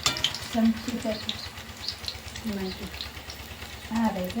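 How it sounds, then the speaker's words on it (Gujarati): Oil bubbles and crackles steadily as fenugreek and chilli bhajiya deep-fry, with intermittent clinks and a faint voice or background noise mixed in. "કામકાજ તળવાનું ચાલુ છે ભેજિયા"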